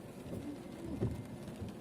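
Steady rain and wind rush past a moving car in a constant low roar, with a dull thump partway through, like driving through a storm on a dark day.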